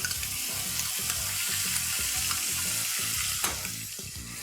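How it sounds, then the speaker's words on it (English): Onion, ginger and garlic paste hits a pan of sizzling cumin, giving a loud, steady fry with regular stirring scrapes throughout, close up and without speech. "as soon as the cumin starts to sizzle, we're going to add in our onion, ginger and garlic paste,"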